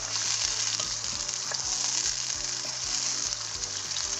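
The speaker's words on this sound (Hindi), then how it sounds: "अब यहाँ पर मैं अदरक के साथ चिकन को फ्राई कर लूँगी" Chicken pieces fry with ginger over a high flame in a karahi, giving a loud, steady sizzle that runs unbroken throughout, with a faint low rhythmic hum beneath.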